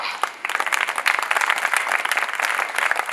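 An audience at a Hindu nationalist speech event bursts into steady applause, a dense, sustained wash of many hands clapping close by.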